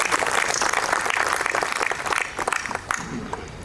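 Audience applause fills a hall at a civic gathering of professionals in Guna, Madhya Pradesh, dense and sustained at first, then thinning into scattered claps toward the end.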